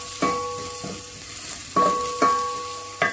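Fish pieces stir-frying briefly in a little olive oil in a pan for fish soup, with steady close sizzling and three sharp scraping stirs of a utensil against the pan, no voices.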